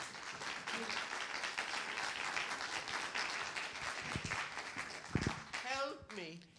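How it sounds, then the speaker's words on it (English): Audience applause welcoming speaker Terry McGovern, a monologue acting teacher, at a Marin event: steady crowd clapping held throughout, swelling slightly near the end with a few voices breaking through. "Nice round of applause."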